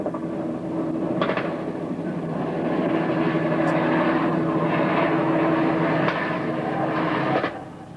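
A helicopter flying overhead gives a steady, loud droning engine and rotor roar that holds for several seconds before suddenly dropping off near the end, with a few faint knocks over it and no talking.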